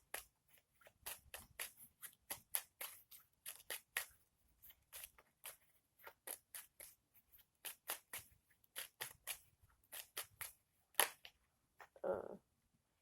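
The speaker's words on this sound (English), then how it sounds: "So I'm at the shuffle." Tarot cards are shuffled with a long run of crisp, uneven riffs and snaps, close and fairly quiet, followed near the end by a brief muffled thump.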